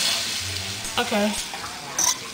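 Onions sizzle and fry in a pan with a steady, soft crackle, while a utensil stirs a few times. A voice briefly speaks over the cooking.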